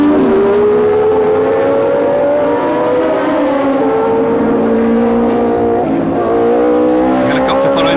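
Formula One cars, including the all-French Ligier Matra with its Matra engine, race through a street circuit at mid-race: a loud, sustained engine whine rises and falls in pitch as the cars pass.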